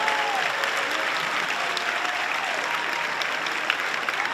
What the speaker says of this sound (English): Please everyone give a round of applause for yourselves and for your family.